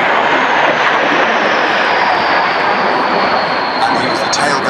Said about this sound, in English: So these two aircraft flying in for tight formation there, up towards the cloud above Elizabeth Castle